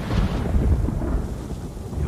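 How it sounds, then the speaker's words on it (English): A thunderstorm in the video game Ghost of Tsushima rolls as a deep, continuous rumble of thunder with a rain-like wash over it, loud and steady with no voices. "Oh, and a storm is coming."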